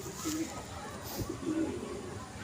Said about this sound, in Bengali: এই নর পায়রাটা বিশাল বড় পায়রা পার্থ ভাই